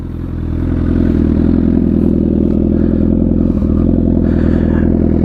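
A Fireblade superbike engine runs close and loud with a steady, throbbing idle that swells slightly in the first second, with no voices.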